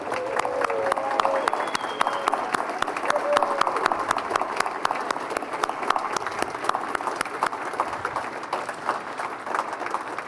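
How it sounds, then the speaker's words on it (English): A crowd at a Lincoln Day Dinner applauds Ruth O'Connell, with dense sustained clapping and some cheering filling the room, steady and loud from start to finish. "Everybody, let's give Ruth a big round of applause."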